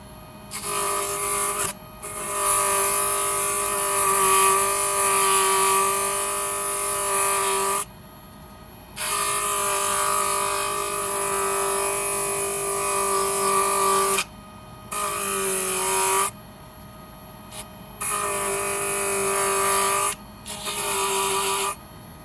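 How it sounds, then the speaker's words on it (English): A rotary sanding tool buzzes steadily in long bursts on bronze metal clay, stopping and restarting several times with short pauses between runs. "as anything that you're sanding, you gotta keep it moving unless you want a divot or a flat spot."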